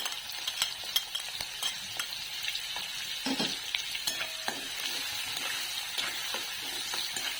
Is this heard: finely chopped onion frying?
yes